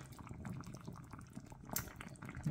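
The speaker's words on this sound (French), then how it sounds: "on va laisser tout ça mijoter un peu avant de rajouter le reste des ingrédients" An Ivorian fish soup with okra and aubergine simmers in a pot, giving a faint, close, continuous bubbling with small irregular pops.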